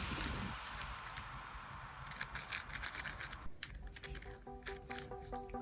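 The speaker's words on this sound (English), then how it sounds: "This cube has a very papery light sound when turning it." Dayan Guhong V4 magnetic speedcube being turned, giving a light, papery clicking and rubbing with rapid irregular turns, close and fairly quiet with no talking.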